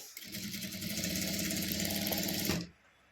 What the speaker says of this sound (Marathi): तर याला आपण चारही बाजूने शिलाई मारून घेऊ